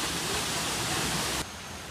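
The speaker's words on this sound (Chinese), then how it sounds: "有个小瀑布" A small waterfall in lush tropical forest near a Bali temple gives a steady, close rushing wash of water, which drops to a softer level for the final half second.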